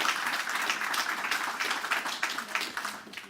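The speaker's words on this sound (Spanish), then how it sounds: "Dan aplausos" Congregation clapping during a Spanish-language sermon at CN Church, a lively burst of applause with individual hand claps audible, moderately close and fading toward the end, unaccompanied by speech.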